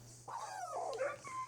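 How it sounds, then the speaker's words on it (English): Minecraft dogs let out a brief, faint run of whimpering yips and whines, a rising and falling squeal over a quiet steady hum. "these dogs are making some ridiculous noises"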